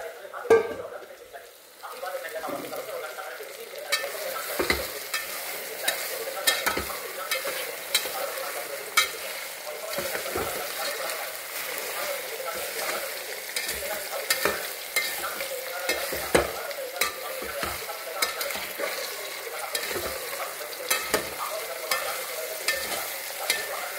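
Sliced potatoes and soybeans fry in a pan with a steady, close sizzle, punctuated throughout by frequent clicks and scrapes of stirring.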